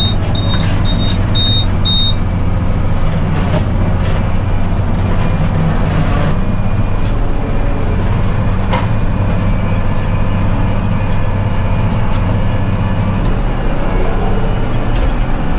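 A tractor pulls a round baler slowly across a field, pressing haylage with its cutting knives engaged. A loud, steady low engine rumble carries throughout, with occasional clanks and knocks from the machinery.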